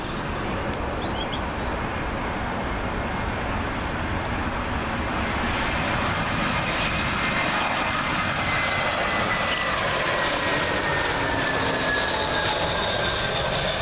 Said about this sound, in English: British Airways A320 in from Barcelona